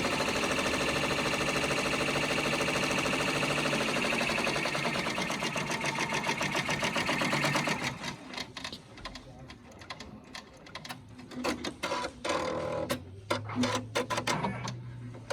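A 10-needle embroidery machine stitches at high speed with a loud, dense, rapid chatter for about eight seconds, then slows into sparse, irregular clicks and thumps.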